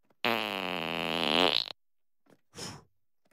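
Cartoon fart in a Family Guy interrogation scene: one loud, sustained buzzing blast lasting over a second, followed after a pause by a short faint sound and a brief second burst.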